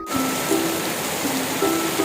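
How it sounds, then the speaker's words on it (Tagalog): Rain pours down steadily in Israel, a constant close wash of falling water on surfaces with faint brief tonal sounds in the background and no speech. "Ngayong araw nga muling bumuhos ang ulan dito sa Israel"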